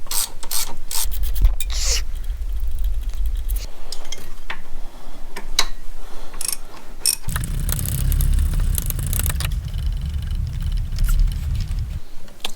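Metal-on-metal ratcheting and scraping as an 8mm Allen cap head screw is worked loose on a Jeep Liberty CRD diesel engine during disassembly, a steady close run of clicks and rubbing with a heavier low rumble partway through.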